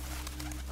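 A pigeon coos in a short, low, soft burst of a few pulses, heard close and alone over a steady background hum.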